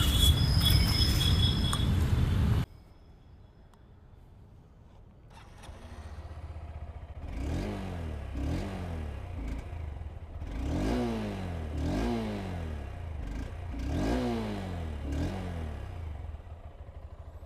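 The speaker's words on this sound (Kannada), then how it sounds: "Throttle sound ಕೇಳಿಸ್ತೀನಿ." A Honda NX200 adventure motorcycle with about 15,000 km settles into a low idle, then gets about five sharp throttle blips, each rising and falling in pitch, loud and close with no talking.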